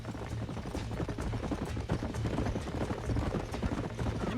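Dense clip-clopping of horse hooves in Red Dead Redemption on Xbox 360, a busy steady drumming as if several horses move at speed, loud and continuous throughout.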